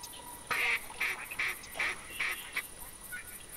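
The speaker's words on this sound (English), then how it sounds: "Oh, quacks." A flock of ducks in the hunting game theHunter Classic quacks in a quick series of about eight calls, moderately distant, over a faint outdoor hiss.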